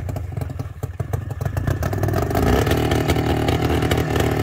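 An old Ockelbo 8000 snowmobile engine comes to life after summer storage, sputtering and clattering at first, then rising into a loud, steady, close two-stroke drone as it runs.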